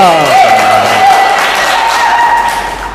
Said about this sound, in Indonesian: tepuk tangan buat teman kita Bu Nani